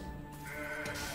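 A goat bleats once from the Legends of Runeterra card game, a clear wavering bleat over soft game background sound.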